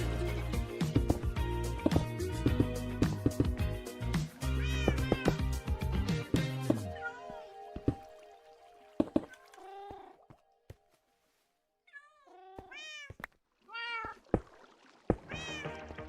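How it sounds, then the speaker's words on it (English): Cats meow in the Minecraft video game over a dense clatter of game sounds, the noise dropping away halfway so that several clear, repeated meows stand out alone. "The cat sounds are honestly crazy."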